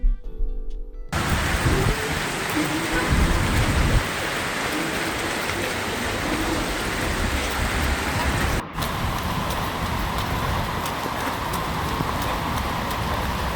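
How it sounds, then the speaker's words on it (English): Heavy rain falls steadily outdoors during a 14-kilometre run, a dense continuous hiss with low rumble beneath, loud and close throughout with a brief dip near the end. "There's a lot of rain out here today."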